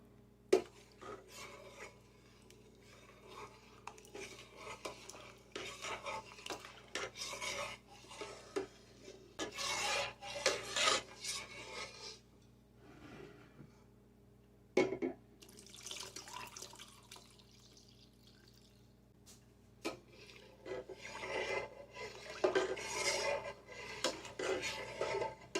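A spoon scrapes and stirs in a pot as milk is mixed into potato soup, with repeated soft rasping strokes and occasional clinks against the metal, close and quiet with steady kitchen hum underneath.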